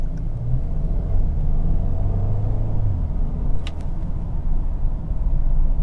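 A 2022 Mercedes GLB35 AMG engine runs smoothly while driving, a low steady rumble heard from inside the cabin with a brief rise in pitch early on and road noise underneath.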